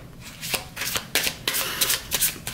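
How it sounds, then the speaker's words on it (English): Tarot cards being shuffled by hand, a run of crisp riffling bursts with short pauses between them, close and clear with no talking. "Spirit just wants me to shuffle right now."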